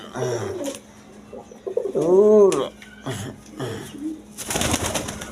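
Pigeon cooing close by, a clear rolling coo around the middle, with shorter bird calls and a person's voice before and after it.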